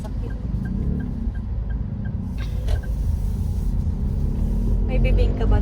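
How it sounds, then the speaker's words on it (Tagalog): Cars rush past fast along a road, a steady close traffic rumble running throughout with brief louder swells, while people talk nearby. "Ba't ang bibilis ng mga sasakyan?"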